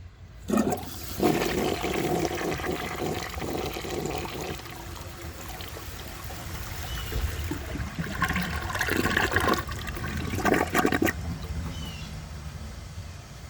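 A 1984 American Standard Cadet toilet flushes a grocery bag, with a strong, steady rush of water close by, rising at the start and swelling again near the end before easing into trickling refill.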